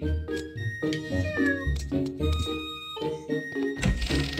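A cat meows in the Zelda Skyward Sword video game, several short meows over game music and thunking sounds, loud and close.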